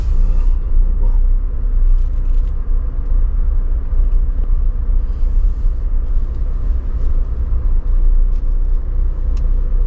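A new truck's engine rumbling steadily for about ten seconds, a continuous low drone with a few faint clanks and hisses on top, fairly loud and close, with no talk.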